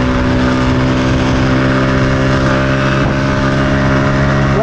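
A light motorbike engine drones steadily with a buzzing, even tone as it pulls up a gentle slope and picks up speed, the pitch climbing slightly near the end; no voices.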